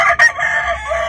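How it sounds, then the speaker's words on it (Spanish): A rooster raised for cockfighting crows in one loud, close call that fills the short moment without any talk over it. "ese es un gallo"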